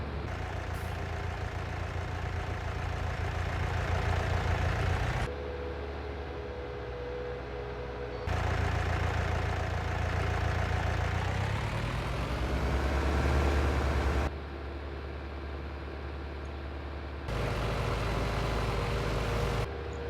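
A tractor engine in Farming Simulator 19 drones at a steady pitch, stepping between louder and quieter stretches as the throttle changes, with one rising rev in the middle and no talk.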